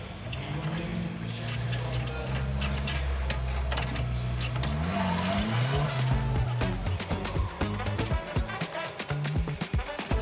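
KTM X-Bow race cars at a Race of Champions event, engines droning and shifting pitch as they rev, with a commentator talking over them and a run of rapid ticking clatter toward the end.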